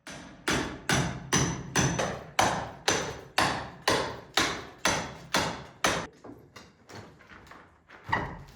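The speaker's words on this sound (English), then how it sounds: "I needed to chip out the plaster and mortar around them relatively carefully" Old plaster and mortar are chipped out by hand from around old window shutters in a wall. About fifteen sharp, evenly spaced hammer blows ring out close and loud, and the rhythm slows toward the end.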